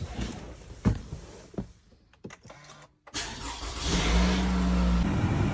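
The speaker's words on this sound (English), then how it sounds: "we can hop inside the vehicle and start the car" A 2013–2018 Toyota RAV4 with the 2.5L engine cranks and fires up, then settles into a steady idle hum, close by and fairly quiet, after a few door and cabin clunks.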